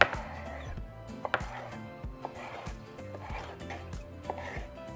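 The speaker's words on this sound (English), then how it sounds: "now we're going to cut our chile poblanos into small strips" Knife cutting peeled poblano chiles into strips on a board, a series of soft, irregular thuds and taps at close range, with no talking.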